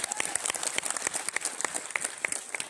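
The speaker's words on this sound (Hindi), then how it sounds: "जोरदार तालियां।" An audience at a leadership program event in Guwahati breaks into applause, a fairly soft, steady patter of many hands clapping with irregular sharp claps standing out, continuing evenly throughout.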